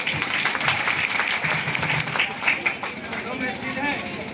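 An audience claps steadily through a lively stage gathering, a loud, dense patter of many hands with some crowd murmur and a voice mixed in.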